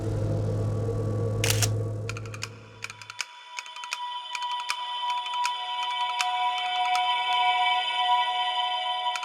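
A smartphone advertised with a 14-megapixel camera, actually a cheap Chinese model, fires a loud shutter-like burst, followed by a string of sustained electronic beeps and tones.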